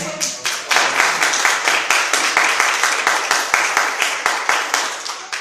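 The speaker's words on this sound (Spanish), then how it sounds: "Denle un aplauso al Señor." A church congregation applauds, a full, even burst of many hands clapping in quick rhythm for several seconds, close and loud with a faint voice beneath.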